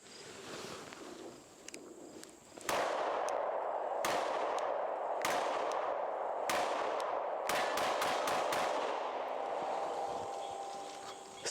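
A 9mm handgun fires a string of about ten shots in an uneven rhythm, each a loud sharp crack close by, with no speech over them.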